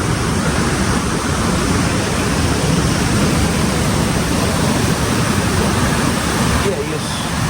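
The Cachoeira do Indiana Jones waterfall near Lumiar, running at high water, gives a loud, close, continuous roar of rushing and crashing water that holds steady throughout.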